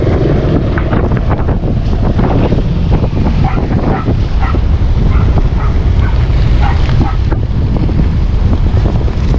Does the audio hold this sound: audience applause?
no